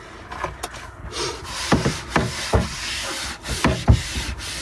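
A sponge, sponge side down, rubs lightly over a surface to clean off grime, giving a series of soft scrubbing strokes in a steady rhythm, close and moderately quiet.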